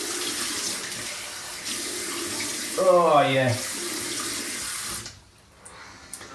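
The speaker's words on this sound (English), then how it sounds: "Cold water splash." A bathroom sink tap runs with a steady splashing wash of cold water as it's scooped and splashed onto a face, a brief voice cutting in midway before the flow stops and small drips follow.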